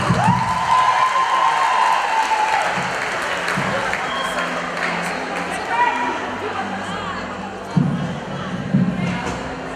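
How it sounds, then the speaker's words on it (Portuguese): Crowd at a 2019 listeners' awards ceremony applauding and cheering, a broad roar of clapping with shouts, moderately distant and gradually settling, with occasional thumps. "Espero os vossos aplausos."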